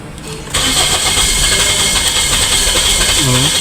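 Toyota Corolla Altis engine cranks loudly and steadily without firing, a continuous starter-driven churn that begins abruptly after a brief quiet lead-in and runs to the end.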